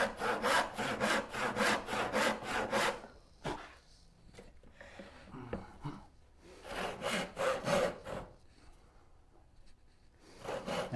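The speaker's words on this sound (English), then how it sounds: "when I first started learning to rip boards by hand" A hand saw rips along a wooden board in quick rhythmic strokes, two long runs of steady back-and-forth rasping separated by quieter pauses with small knocks, then a fresh burst at the end, close and clear.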